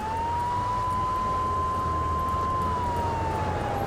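A fire truck siren wails steadily in GTA 3, a long unbroken tone sliding slightly up and down, loud and continuous over a low engine rumble with no talking.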